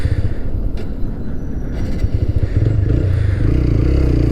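Motorcycle engine pulling hard in second gear on a Delhi to Manali mountain ride, a steady loud rumbling drone with clattering mechanical noise, growing slightly stronger toward the end, no talk.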